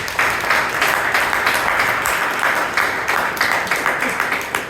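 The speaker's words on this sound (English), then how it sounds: "please give a huge round of applause" An audience at a Toastmasters club meeting in Bangalore gives sustained applause for a speaker and evaluator, a dense, even wash of clapping with a few distinct claps rising near the end.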